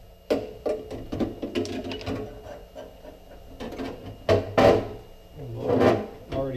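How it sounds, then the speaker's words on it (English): Intermittent mechanical whirring and grinding bursts with clattering knocks in between, close by, as a hand drill drills out metal rivets on tanning bed ballasts. "So we'll drill the rivets out for them."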